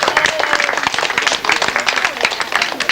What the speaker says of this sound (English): why not give them a round of applause as they come through?